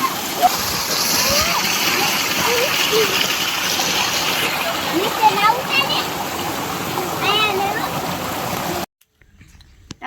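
Rushing water in a farm irrigation channel with repeated splashes as boys bathe, their voices calling out over the flow, until the sound cuts off abruptly near the end.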